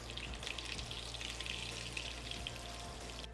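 Jackfruit pieces sauté in hot oil in a pan, giving a steady, fairly quiet sizzle and crackle that runs unbroken with no voices.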